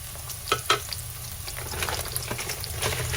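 Garlic and ginger sizzle quietly in a pan as they fry toward brown, with a couple of soft clicks of stirring near the start and a steady crackle after.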